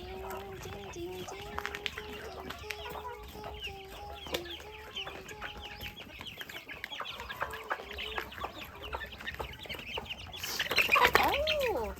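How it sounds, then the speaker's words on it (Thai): Hens and roosters in a home chicken and duck coop cluck in repeated short calls, moderately close, with some louder squawking near the end; someone talks over the birds throughout. "ดูสิโอ้โหพวกไก่เต็มๆเลย"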